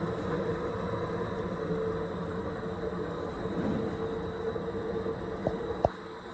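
A 1929 Gothot 22 kg coffee roaster turns its drum with a steady low mechanical rumble and hum, joined by a running blower, with a couple of brief clicks near the end.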